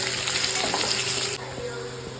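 Potato pieces fry in hot oil with salt and turmeric for a Bengali chicken kasha, giving a steady close sizzle and crackle with a few light stirring scrapes, the hiss dropping a little toward the end.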